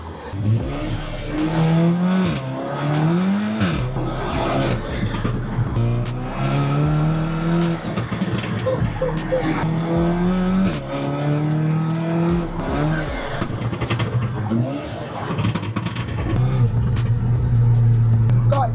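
A modified VW Caddy R driven hard, its engine revving loudly and continuously with rising and falling pitch as it accelerates and shifts, tires squealing at points, close and dominant, with a voice speaking over it.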